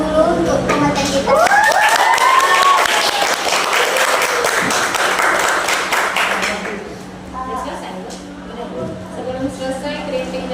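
A classroom group at a school podcast session applauds their presenter: a burst of close clapping from several people that swells, then thins out, with voices chattering underneath and continuing after.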